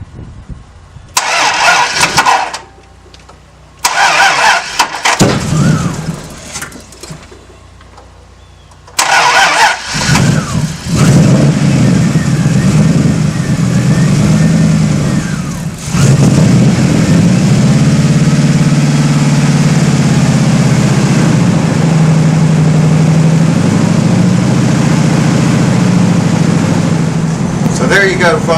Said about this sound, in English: You can hear the truck running in the background.